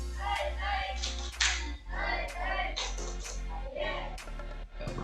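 Students in a classroom clap together in a quick rhythmic spirit-clap pattern, a run of sharp, close hand claps mixed with chanting young voices.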